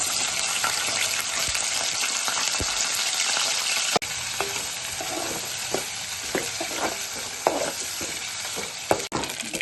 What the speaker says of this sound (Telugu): ఆయిల్ వేడైంది. ముందుగా మనం క్లీన్ చేసుకున్న నెత్తలు వేసుకుందాం.